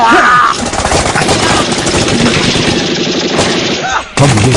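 Gunfire and bomb blasts fill a war drama battle scene about Lance Naik Karam Singh, a loud, dense barrage of rapid shots and explosions that breaks off briefly near the end before resuming.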